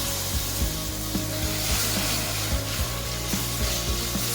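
Milk is stirred gradually into a roasted white sauce base in a pan, giving steady rhythmic scraping and soft ticking over a constant background hum.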